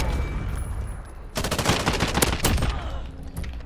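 Rapid bursts of FAL rifle hipfire from the video game Modern Warfare: a quick string of sharp, loud cracks after a quieter lead-in, then fading reverberant echoes, with no voices.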